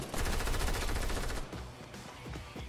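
Rapid automatic gunfire in a battle royale squad match rattles loudly for about a second and a half, then thins into scattered single shots and softer distant pops.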